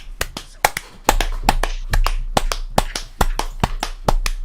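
Sharp hand claps ring out in an irregular burst, about a dozen close, loud slaps with brief gaps, over a low hum.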